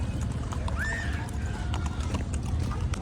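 Horse hooves clip-clop steadily during a family horseback ride in Manali, a quick, even rhythm of soft knocks under a continuous outdoor rumble, with a brief high squeak in between.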